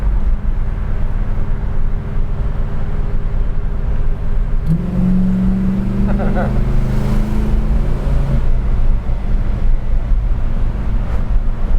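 A 1971 Oldsmobile 442 W-30 accelerates in third gear, its engine note rising in pitch under constant road and wind noise, heard from inside the car with a fairly loud, continuous drone.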